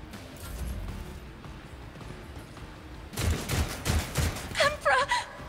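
Gunfire in Warhammer 40,000: Rogue Trader erupts after a quieter stretch, a rapid series of loud punchy shots ending with a sharp ringing burst, set against game ambience.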